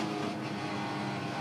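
A TCR touring race car, an Audi, runs through a sweeper at Winton during a circuit race, its engine droning steadily at high revs, a sustained mid-distance roar with no talk.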